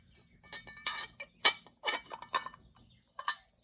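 Glazed ceramic coasters fired to cone 6 clink and tap against one another as they are stacked, a series of sharp, bright ceramic knocks spaced irregularly, close and fairly crisp.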